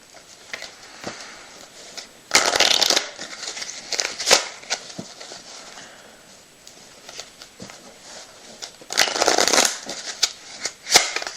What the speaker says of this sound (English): That wasn't a very good shuffle